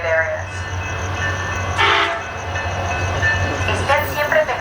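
SunRail and Amtrak trains idle and move at Orlando Health/Amtrak/SunRail Station, with a steady low engine rumble, a brief horn-like blast partway through and faint station noise around it.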